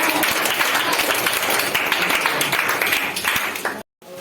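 Loud, dense applause from an audience honoring a student at a motivational class event, sustained clapping for nearly four seconds before cutting off abruptly.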